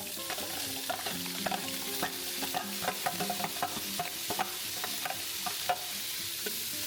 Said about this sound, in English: Put in the minced beef.